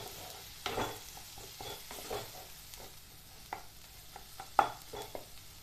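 Spices and red chili powder fry quickly in a pan over low heat, giving a soft hiss with a few scraping stirs and small clinks, close by and fairly quiet, with no talking.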